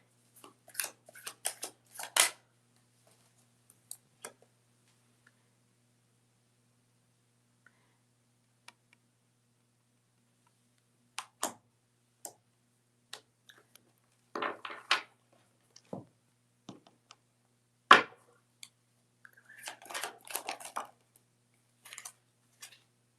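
Tarot cards are shuffled in scattered bursts of crisp riffling clicks and snaps, separated by quiet pauses, close and fairly soft.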